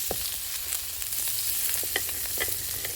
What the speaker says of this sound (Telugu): ఇవి కూడా మనకి బాగా వేగాలి కాబట్టి కలుపుకుందాం. ఆయిల్ కూడా వేసుకోవాలండి.